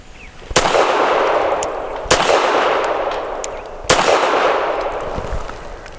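Three sharp, loud gunshots from an FN Browning BDA .380 pistol firing full metal jacket rounds, spaced about a second and a half apart, each followed by a long ringing echo outdoors.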